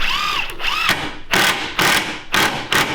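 An impact driver drives screws into a cabinet, giving several loud, close bursts of rapid hammering clatter separated by short pauses, with a whining spin-up at the start.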